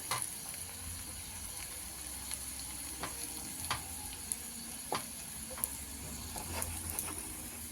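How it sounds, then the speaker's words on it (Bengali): Continuous crackling sizzle of spices and dried fenugreek leaves frying in a pan, close and steady, with occasional light taps of a spoon stirring. "সব কিছুকে একটু ভাজা ভাজা করে নিতে হবে"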